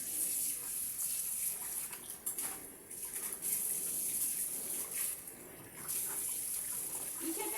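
Tap water running steadily while ginger, onion, garlic and pumpkin are washed, a close, continuous rush with brief dips and splashy changes as the vegetables pass under the stream.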